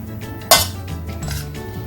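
Ingredients for a sweet and spicy popcorn snack are stirred in a bowl, a sharp clink opening a run of scraping, clattering utensil strokes against the dish, close and fairly loud.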